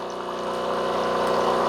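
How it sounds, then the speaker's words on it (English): Hot water runs steadily from the dispenser of a Breville BES870XL Barista Express espresso machine during descaling, a continuous pump hum with a pouring water rush that holds level throughout, close and alone. "Now it's coming out the hot water dispenser."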